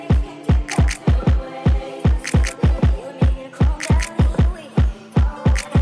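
Jersey Club switch-up beat built in FL Studio, with punchy bouncing kicks in quick repeated bursts, bright zap percussion hits and a sustained synth tone underneath, loud and steady with no voices.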